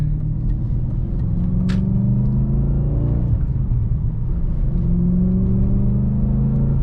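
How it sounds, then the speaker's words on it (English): Tuned 2007 Audi B7 RS4 exhaust rumbles steadily as the car accelerates with the windows up, a continuous loud drone rising and shifting in pitch through gear changes, with no talking. "that exhaust sounds really good"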